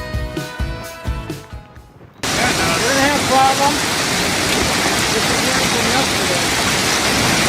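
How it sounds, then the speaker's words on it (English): Heavy rain pours down in a roaring, steady wash during a Minnesota storm with strong winds and hail, starting abruptly after a brief quieter stretch and staying loud throughout. "Strong winds and hail struck central Minnesota, creating extremely dangerous weather conditions."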